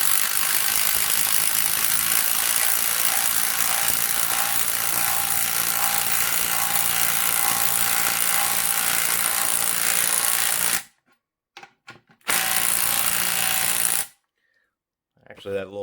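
A DeWalt impact wrench drives impact swivel sockets in a mechanic's setting, a loud continuous rattling hammer running steadily for about eleven seconds, then stopping and restarting in two shorter bursts with silent gaps between them.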